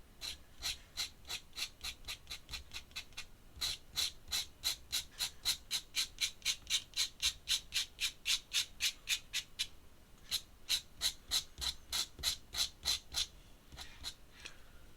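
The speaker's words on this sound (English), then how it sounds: "A lot of noise from the magpies outside today." Magpies squawking outside in a long run of harsh, rapid, evenly spaced calls that go on for several seconds, pause briefly and then resume, heard clearly with no talk.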